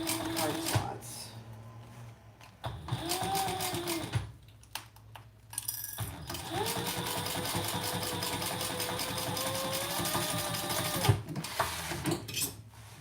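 A sewing machine stitches a quarter-inch seam through thick layered fabric, a steady mechanical whir running for several seconds at a time between short pauses, with a voice talking over parts of it.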